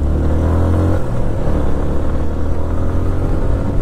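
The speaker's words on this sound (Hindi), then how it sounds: "फर्स्ट गियर लगा लिया मैंने, अब बाइक को उठाते हैं, थोड़ी सी स्पीड पकड़ते हैं।" A motorcycle pulls away in first gear and picks up speed on an open road, its engine a loud, steady, close-up drone with a continuous low rumble and slight rising strain, and no voices over it.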